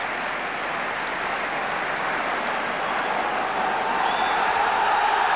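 A huge football stadium crowd roars and applauds at Wembley before the 1971 FA Cup final between Arsenal and Liverpool, a dense, continuous wash of distant noise that swells slightly toward the end.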